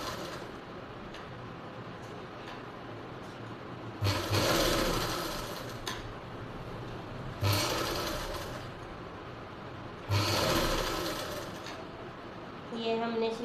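A sewing machine stitches the round neckline of a baby frock in three short bursts over a steady background hum, each burst lasting about a second or two, fairly close.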